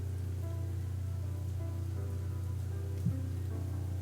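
Rain falls steadily in an even, constant patter outdoors, with a low continuous rumble underneath and one brief knock near the end.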